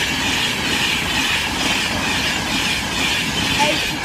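A passenger train, likely a VTEC service, rolls through the Maxey level crossing in Cambridgeshire, giving a steady, loud broadband rumble of wheels on rail with a brief faint squeal near the end.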